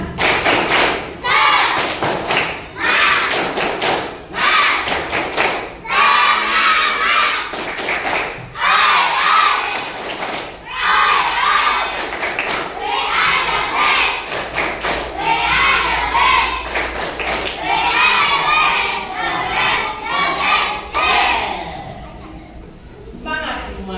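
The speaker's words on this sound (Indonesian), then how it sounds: "mari kita bersama-sama tepuk semangat" Schoolchildren performing a rhythmic spirit-clap chant in class, repeated bursts of thumping claps in patterned rhythm mixed with loud group chanting and voices throughout, ending abruptly.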